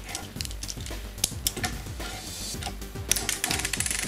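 A small LEGO Chima 70229 plastic shooter is flicked with a finger, giving a run of sharp clicks and rattling taps in irregular rhythm, close and clear with no talk.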